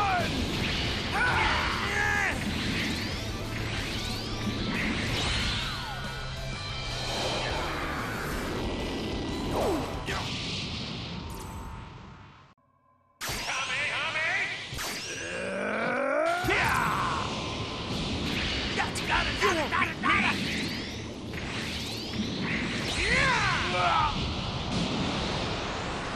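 Galick Gun energy beam attack in the fighting game Dragon Ball Sparking Zero, a sustained roaring blast of crackling energy and crashing impacts that cuts out briefly, then surges again with swooping effects, with character voices shouting throughout.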